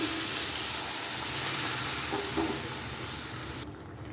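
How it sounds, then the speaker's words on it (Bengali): Steady broadband sizzling of okra and potatoes in a hot pan, loud and close, easing slightly and dulling toward the end as water goes in. "এখন আমি পরিমাণ মতো পানি দিয়ে দিলাম"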